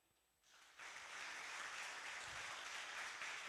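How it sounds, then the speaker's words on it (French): An audience at the PyCon Togo 2025 conference breaks into applause, rising quickly from a quiet room into sustained, dense clapping that holds steady to the end. "si vous pouvez applaudir."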